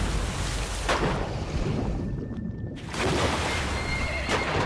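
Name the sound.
horse neighing in video game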